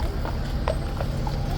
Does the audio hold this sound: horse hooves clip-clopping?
yes